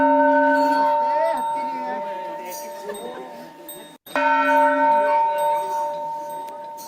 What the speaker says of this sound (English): the exact sound that I was listening to was that of a bell sound, a temple bell sound